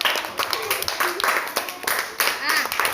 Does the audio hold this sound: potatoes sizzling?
no